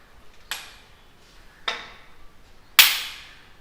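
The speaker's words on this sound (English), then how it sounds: "you need to use a hammer and hit on top of it really hard" Three sharp metallic taps from a hammer striking the top of a Royal Enfield Bullet Standard 350 motorcycle front fork to loosen it, spaced about a second apart and growing louder, each with a short ringing decay.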